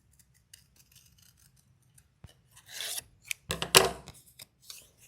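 Scissors cut out paper close up: faint snips at first, then a burst of louder crisp cutting and rustling strokes in the final seconds, with no talk.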